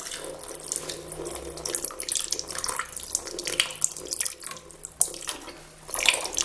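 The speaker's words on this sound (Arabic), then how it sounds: "نزيد نفرغ عليها لا جافيل" Liquid bleach pouring and splashing into a toilet cistern, a continuous watery rush with small splattering bursts, close and moderately loud with no talking.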